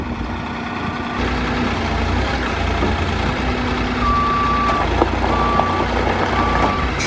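A barn-building machine that drives forwards, backwards and sideways idles with a steady engine drone while its reversing alarm beeps in short repeated bursts, with no talking.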